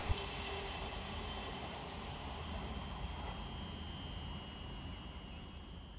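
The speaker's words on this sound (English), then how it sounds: "Next flying through for Govia Thameslink is 700-015, working 9 Yankee 57 from Welling Garden City through to Sevenoaks." Govia Thameslink Class 700 unit 700-015 running fast through Hornsey station without stopping, a steady broad rumble and hiss held at a constant level, fairly distant and faint, with no voices.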